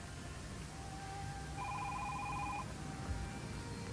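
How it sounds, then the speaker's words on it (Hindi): A single electronic telephone ring warbles once over a low, noisy background hum, fairly faint and alone. "नाजो, जरा फोन तो सुन"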